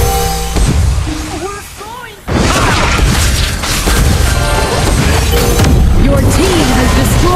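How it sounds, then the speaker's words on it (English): Loud booms and crashing impacts from a tower being destroyed in a MOBA match, layered over constant game effects and music with a sharp dropout near two seconds, then dense continuous clatter. "Your team has destroyed a tower."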